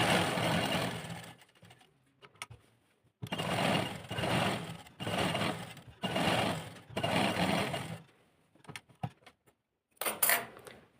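A sewing machine stitches a V-neck seam on a suit in short bursts of rapid whirring, several runs of one to two seconds separated by pauses with small handling clicks.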